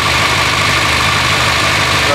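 A Renault car engine, just repaired after a head gasket job, runs steadily nearby, a continuous rumbling idle with a buzzy mechanical texture and no pauses.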